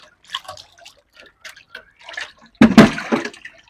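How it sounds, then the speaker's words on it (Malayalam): A freshly netted, large yellow catfish is dropped into water with one sharp, close splash and a brief burst of sloshing, after a few seconds of soft, scattered handling sounds. "ഇത് പോകുന്നതിന് മുമ്പേ നമുക്ക് വെള്ളത്തിലിടാം."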